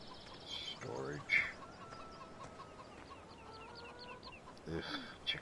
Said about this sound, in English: Ugh, chickens. Oh yes, this is where our chickens are kept.